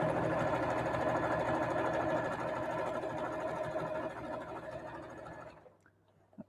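Sewing machine stitching fabric, a fast steady mechanical chatter of the needle running for several seconds before slowing and stopping, leaving near silence with a faint click.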